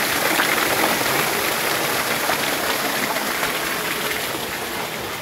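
Water gushing steadily from a village irrigation pump in rural Uttar Pradesh, a loud continuous broadband rush with a faint engine-like hum beneath, constant throughout with no speech.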